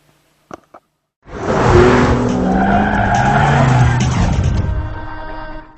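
A 2009 Honda FCX Clarity hydrogen fuel cell car drives with a loud, sustained tire squeal and skidding roar, preceded by a couple of faint clicks, lasting several seconds before easing off.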